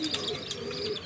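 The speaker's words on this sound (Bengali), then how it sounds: "আচ্ছা প্রিয় দর্শক, কবুতরের জোড়াটি আপনারা দেখেন" Pigeons cooing at a pigeon market, a steady low murmur of soft coos layered with faint chirps, continuous and close throughout.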